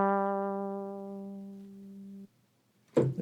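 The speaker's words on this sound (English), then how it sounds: "Fretless bass." A fretless bass sample on an Akai S900 12-bit digital sampler rings out as one sustained, slowly fading note that cuts off abruptly, followed by a short burst of noise.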